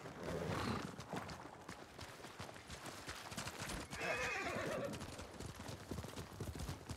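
Horses gallop with steady clip-clopping hooves and loud neighs and whinnies in the video game Ghost of Tsushima, joined by a busy battle ambience that stays prominent throughout.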